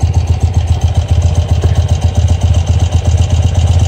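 A steady engine idles at low RPM just after its butterfly valve is opened, giving a continuous close, loud, even low rumble with a quick regular pulsing throb and no voices.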